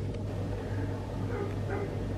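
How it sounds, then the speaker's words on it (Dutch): A few faint, distant yips from a dog outdoors near sheep, heard briefly over a quiet low background hum. "En dan gaat hij blaffen."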